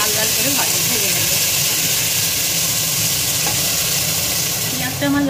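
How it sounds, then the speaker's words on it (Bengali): Chopped onions fry in hot oil with bay leaves and dried red chillies for a mutton curry. A loud, continuous sizzle and hiss carries throughout, with occasional stirring scrapes close by. "পেঁয়াজটাকে আমি লাল লাল করে ভেজে নেব।"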